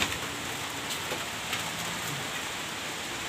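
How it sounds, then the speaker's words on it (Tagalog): Steady heavy rain pours down with a constant rushing hiss, gusty wind blending into the dense wash of noise, no voices. "Lakas ng hangin. Diyan naggagaling ang ulan."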